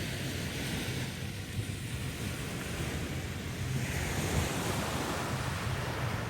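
Ocean surf rolls in on a beach at Omatao on the West Philippine Sea, a continuous broad wash of waves with steady wind buffeting the microphone, fairly close, with no voices.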